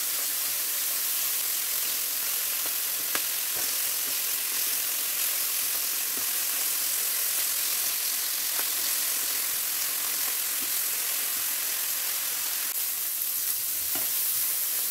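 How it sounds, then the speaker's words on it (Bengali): Frozen boal fish fries in hot oil in a frying pan, giving a continuous loud, even sizzle and hiss with a few faint clicks, steady throughout with no voices. "আর আমি মাছটা ভেজে নিচ্ছি, কারণ ফ্রোজেন মাছ তো এটা একটু ভেজে নিলে একটু টেস্ট হয়"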